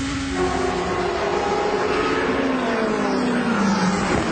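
Onboard GP2 race car driven by Bruno Senna at Monza in 2008, engine loud and close, a steady high drone with rising pitch under acceleration down the straight toward Parabolica.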